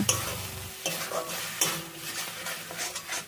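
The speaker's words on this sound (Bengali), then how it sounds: "এটা নাড়তে নাড়তে যখন কড়াই থেকে এভাবে ছেড়ে আসবে তখন বুঝবে বাটাটা হয়ে গেছে" Bean paste (sim bata) being stirred in a frying pan, with repeated close scraping and clacking of a spatula against the pan and a light sizzle beneath, the strokes arriving in an uneven rhythm without any talk.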